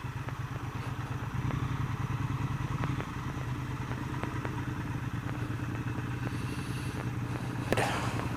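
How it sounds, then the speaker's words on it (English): A Triumph Speed Twin 1200 motorcycle being ridden, its engine giving a steady, continuous drone close by with some clatter and a brief louder burst near the end; no talking. "that was just my first ride on the Triumph Speed Twin 1200"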